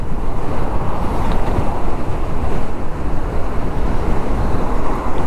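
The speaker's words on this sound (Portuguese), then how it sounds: "Top speed de moto elétrica." Voltz EV1 Sport electric motorcycle ridden flat out at its top speed of about 75 km/h, heard as a steady, loud rush of wind buffeting the microphone, with no voices.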